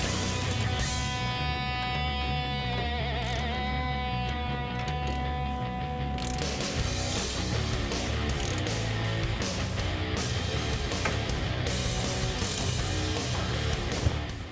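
A ratchet clicks rapidly in quick strokes while tightening bolts on a power steering rack during a rack and pinion conversion on a 1967-1970 Mustang, close and alone, with a tonal hum early on.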